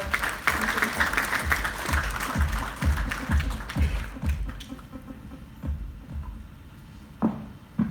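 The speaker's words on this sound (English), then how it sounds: "A warm round of applause for Mr. Vishwanathan." An audience applauds the keynote speaker Mr. Vishwanathan at the TransUnion CIBIL - SIDBI MSME Pulse 2018 event, moderate clapping that fades out after about five seconds, leaving room tone.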